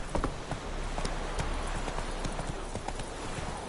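Roach the horse galloping in The Witcher 3 video game, rapid clip-clop hoofbeats in a steady running rhythm over an ambient game background, moderately loud.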